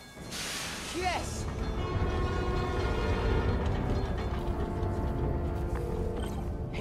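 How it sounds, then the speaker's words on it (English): New York subway train in the Spider-Man: Miles Morales video game, a steady loud rumbling roar with hissing and a squealing screech near the start, continuing throughout. "Come on, trusty New York subway."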